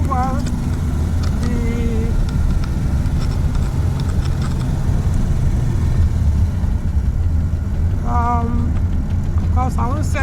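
A Peugeot 505 V6 engine drones steadily throughout a drive, a low constant rumble filling the cabin while a voice speaks briefly over it.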